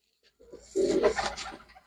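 Domestic pigeons from a single loft give a low, rolling coo that swells briefly after a moment of quiet and then tapers off, close and moderately loud.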